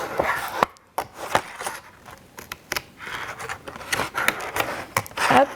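Scissors snip around a paper page as it turns, cutting out a round shape for a children's superhero drawing craft, with a series of short crisp cuts and rustles heard close up and without speech.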